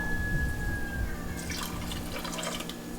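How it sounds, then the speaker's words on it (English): Water pours into a pot of sea moss, starting with a faint steady hum and then a close, bright splashing trickle filling the pot over the last second and a half. "Now I'm going to add some more water to this so the cmos sits loosely in the pot as it boils."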